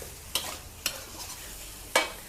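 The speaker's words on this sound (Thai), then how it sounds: "ผัดกับพริกแกงนะคะ ให้หอมฉุยเลยค่ะ" Fish stir-fried with red curry paste in a pan: three sharp scraping strokes of a spatula against the pan, spaced irregularly over a soft, steady background sizzle, close and without talk.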